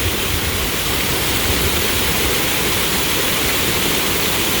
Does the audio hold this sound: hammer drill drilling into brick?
no